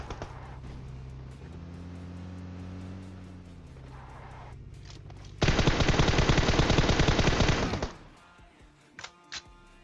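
Rapid automatic gunfire erupts loudly for a couple of seconds amid game engine hum and vehicle rumble, followed by a few scattered shots.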